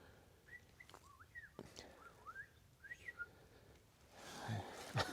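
A person whistles short rising and falling bird-like calls in a quiet outdoor hilltop village, several separate phrases close by, followed by rustling handling noise at the end; the voice imitates a bird.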